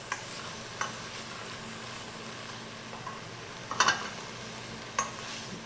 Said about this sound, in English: Give our pancetta a stir. We don't want them to burn, but we do want them to get very crispy.